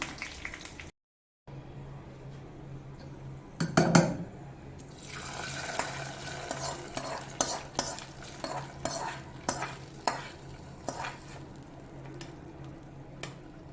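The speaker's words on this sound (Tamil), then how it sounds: "தாளிப்பை இப்போ கீரை குழம்புல கொட்டிடலாம்" A tempering of chili and curry leaves poured into spinach curry gives a brief burst of hiss and splash, followed by a spoon stirring and scraping the pot in repeated close strokes over a faint simmer.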